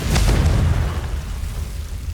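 A Confringo blasting spell goes off in Hogwarts Legacy, a loud deep boom with a rumbling blast that swells at once and then trails off into a steady low roar, with no voice over it.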